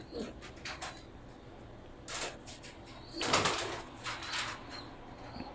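Bagla Teddy pigeons cooing in a loft, soft repeated coos scattered across the span with some rustling and a few louder bursts, fairly quiet and close.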